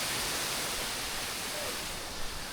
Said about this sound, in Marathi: इथे बरेचसे छोटे वॉटरफॉल पण आहेत जे तिकडून येतात.